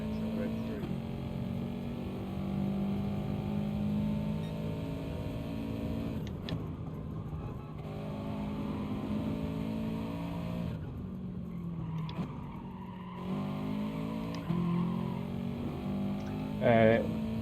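A Gran Turismo Sport Group 4 race car on the Nürburgring GP circuit revs and accelerates, a steady engine drone rising and falling in pitch through the corners, with a voice speaking over it.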